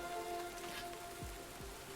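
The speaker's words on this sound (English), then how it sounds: "Oh, look, it's raining." Steady rain patters in the Hundred Days wine making simulator game, a soft, continuous hiss at low volume with faint low tones underneath and no talking.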